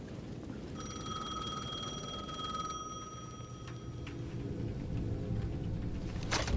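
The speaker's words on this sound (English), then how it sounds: "The payphone at the edge of the plaza was ringing again." A payphone at the edge of a plaza in the Alan Wake II video game rings with steady electronic bell tones for about two seconds over a low, rumbling ambient bed, then fades into the background drone.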